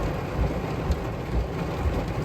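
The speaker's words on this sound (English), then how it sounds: "The rain that's falling, oh my god, absolutely lashing it down." Heavy rain lashes down on a farm, a dense, loud, steady roar of drops with a few low rumbling swells and no voices.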